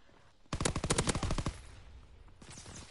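Rapid burst of close gunfire in a Call of Duty match, about ten sharp shots packed into a second, then a quieter tail.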